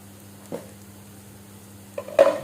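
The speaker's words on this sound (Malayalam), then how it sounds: "നമുക്ക് നമുക്ക് നന്നായിട്ട് ഇളക്കി കൊടുക്കാം" A spoon stirs chili and turmeric powder into a prawn roast in a pan, with a faint sizzle, one light scrape early on and a few louder knocks against the pan near the end.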